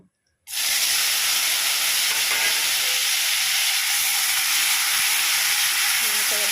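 Chopped tomatoes hit hot oil with whole cumin and chillies for a bata fish curry with potatoes, bursting into a loud, continuous sizzle and hiss that starts abruptly and holds steady.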